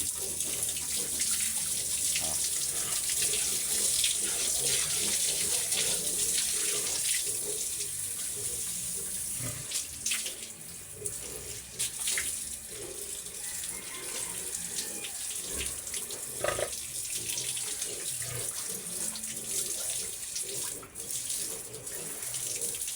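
Water runs and splashes continuously during an outdoor bath, loud and close, with intermittent thuds and splashes as it pours.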